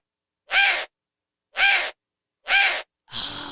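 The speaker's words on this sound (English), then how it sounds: "even though Whisper looks like a great horned owl, just bigger, she makes a completely different sound" Three loud, harsh calls from a captive owl that resembles a great horned owl but is larger, evenly spaced about a second apart and close up, followed by a rougher, noisier fourth burst.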